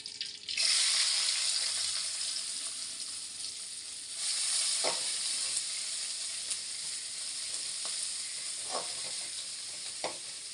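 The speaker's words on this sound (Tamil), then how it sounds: "மறுபடியும் கொஞ்சம் எண்ணெய் சேர்த்துக்கலாம் பச்சை மிளகாய் வெங்காயம்" Green chillies and onions fry in oil with a loud, steady sizzle that surges as they hit the pan, with occasional stirring clinks over the hiss.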